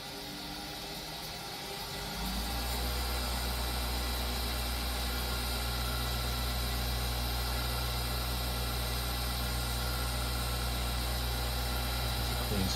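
A lathe polishing a carbon fiber pen ramps up from 200 toward 3,600 RPM; a low, fairly soft hum swells after a couple of seconds and then holds as a steady drone with a constant motor tone.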